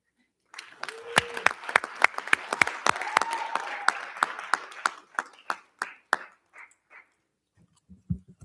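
A round of applause at a school board meeting honoring students of the month: dense, loud clapping from a crowd that gradually thins into a few scattered final claps and fades to near silence, with faint low voices at the very end.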